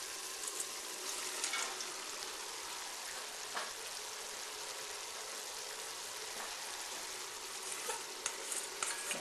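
Jalapenos and onions stirred into a sizzling, reducing sauce in a pan, a steady bright hiss broken by scraping stirs and small pops, close and continuous throughout.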